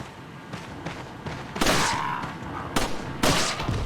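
Gunfire in Resident Evil 4, a few sharp loud shots with brief echoing tails against a busy game background, spaced unevenly over a few seconds, no speech.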